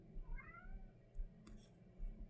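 A cat gives one short, rising meow, fairly close but modest in volume, over a low background rumble, followed by a few faint ticks.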